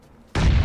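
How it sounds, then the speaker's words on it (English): A thrown grenade detonates in the shooter game PUBG, a single sudden loud boom that cuts in after near silence and stays heavy to the end. "Time to nade him."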